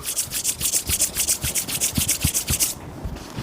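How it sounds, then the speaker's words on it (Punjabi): Hands rubbed briskly together in a steady series of close, dry swishing strokes, about a dozen rapid rubs that stop just before the end, leaving a quieter pause. "ਫੇਰ ਇੱਕ ਵਾਰੀ ਰਗੜੋ ਚੰਗੀ ਤਰ੍ਹਾਂ ਰਗੜੋ"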